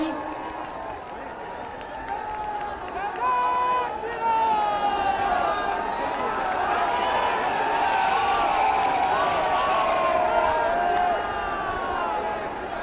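A large crowd at a women's empowerment conference in Prayagraj, Uttar Pradesh cheers and applauds for the Prime Minister, a sustained roar of clapping and shouting with voices calling out over it.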